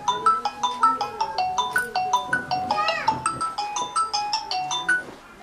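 A phone ringtone plays a repeating melodic chime pattern, loud and close, while a call is placed in a village home, with a brief voice-like sound mixed in midway.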